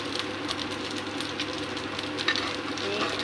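Turnip cake frying in a pan for breakfast, a steady close sizzle and crackle running throughout with small pops, with no voice over it.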